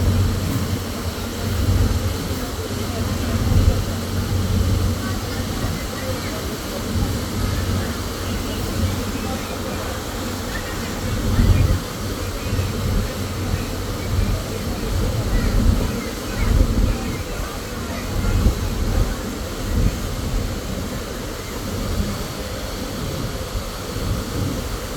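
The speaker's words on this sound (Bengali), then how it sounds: "গতি দেখিয়ে ফ্রেমের বাইরে এবং সামনের দিকে এগিয়ে যাচ্ছে পটুয়াখালী সুন্দরবন 9 লঞ্চ" Sundarban-9, a Patuakhali passenger launch, travels along a river with a steady low engine drone and a wash of water and wind; the rumble swells briefly in places, and people talk faintly in the background.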